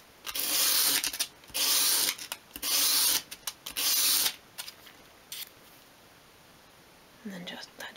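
A small wooden piece for a 1/12 scale miniature magazine rack has its edge sanded round, giving several close, rhythmic rasping strokes in bursts, followed by quieter scrapes and a pause.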